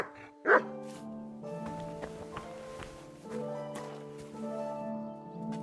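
The dog Mutt from the game Kingdom Come: Deliverance 2 gives a single sharp bark near the start, heard over a soft, sustained musical score.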